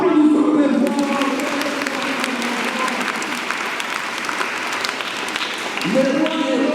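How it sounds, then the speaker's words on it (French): Loud, sustained applause rises from a congregation at a children's missionary mass, steady throughout and swelling again near the end, with a voice speaking briefly over it at the start and close. "Applaudissons très fort."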